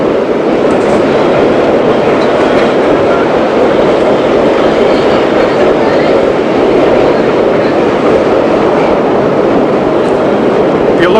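A New York subway train rolls across a bridge over track expansion joints, a loud continuous rumble and rattle of wheels and cars filling the whole stretch, up close.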